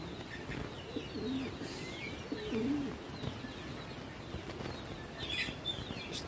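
Pigeons kept on a farm coo softly at close range while eating vegetables, with occasional faint chirps and a brief flutter of wings over a steady ambient hiss.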